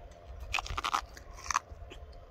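Raw sweet corn bitten off the ear and chewed close up: a few sharp crunchy bites followed by softer chewing, with no talking.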